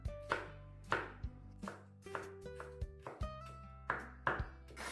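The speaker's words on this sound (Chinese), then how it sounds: "再切丝，最后将它切碎。" A knife chops a carrot on a cutting board in a run of about a dozen crisp, close knocks at an uneven pace, with no voices.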